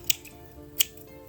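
Dried lavender stems being snipped for a lavender wreath, two sharp crisp cuts well apart, close and fairly quiet with no talk.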